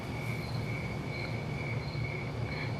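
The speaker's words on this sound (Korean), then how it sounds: "이게 숲에서 나는 약간 귀뚜라미 소리 같은 느낌?" Steady, dense chirping of crickets and other insects in a rural forest at night, a continuous high trilling drone with faint recurring pulses, fairly quiet and with no voices.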